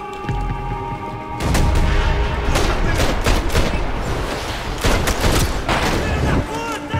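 Video-game gunfire in Max Payne 3: a dense burst of shots and booms begins after a short quiet start and keeps going for several seconds, loud and close, with repeated sharp bangs layered over one another.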